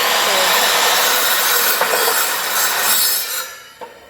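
A saw fitted with a fine-tooth blade cuts through a 2x4 piece of wood, giving a steady, loud, rasping stroke that runs continuously for several seconds before tapering off near the end.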